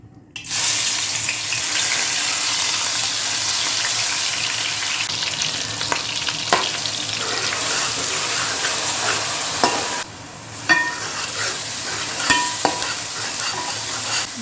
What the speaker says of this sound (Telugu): దీంట్లో ఆయిల్ వేసేసుకుందామండి దీంట్లో మనం గ్రైండ్ చేసి ఉంచుకున్నాం కదా ఈ ఆనియన్స్ వేసేసుకుందాం